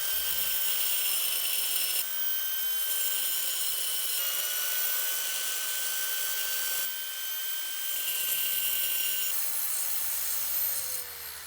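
Power polisher with a wool pad working a hand-carved wooden trophy, a steady high-pitched motor whine in several runs separated by brief pauses.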